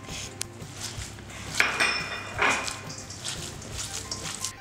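Ground meat mixed with finely chopped onion in a bowl, soft squelching pushes with light clinks and scrapes against the bowl, fairly quiet and close.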